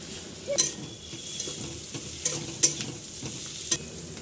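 Capsicum, beans, carrot and onion stir-frying in a pan for homemade chowmein, a continuous sizzle broken by several sharp clanks of a spatula scraping and tossing the vegetables, close and with no speech.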